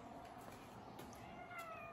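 A Savannah cat gives soft, faint meows, a couple of brief calls against a quiet indoor background.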